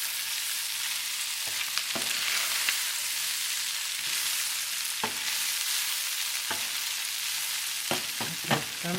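Pork stir-frying in a pan with celery, green onions and cilantro, a steady bright sizzle broken by occasional scraping and clinking knocks as the ingredients are tossed and stirred.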